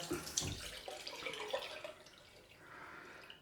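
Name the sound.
cold water running from tap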